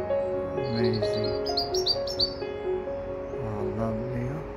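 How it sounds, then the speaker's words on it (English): A robin sings bright, high, warbling phrases in a London garden in spring. Its song is set against steady lower tones and background sound. "Keep singing, Robin."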